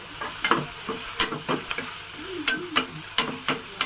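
Garlic frying in hot oil in a pan, a steady close sizzle broken by repeated sharp scrapes of a spoon stirring, with no talk.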